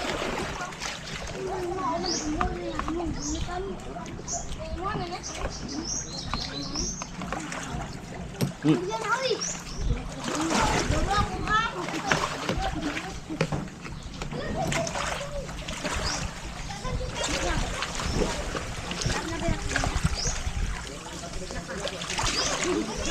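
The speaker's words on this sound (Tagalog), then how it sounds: "Laki ng alon." Big waves splash and surge repeatedly against a boat amid continuous rushing noise, with children's voices and chatter mixed in.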